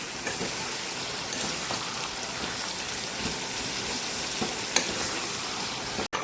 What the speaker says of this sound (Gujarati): બધા મસાલા સાથે આપણે એને સાતડી લેવાનું છે